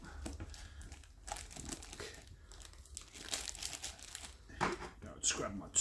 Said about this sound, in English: I'll see if I can get some of this plastic off